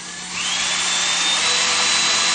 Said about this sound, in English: Let's see what happens when I turn on my drill.